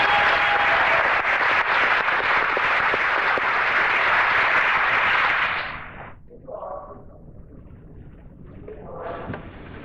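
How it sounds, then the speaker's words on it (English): An audience claps for the Young Artists of the Year nominees at a western-arts awards show. The applause is dense and sustained for about six seconds, then falls away to a quieter room with scattered sounds. "If you'll give them a round of applause."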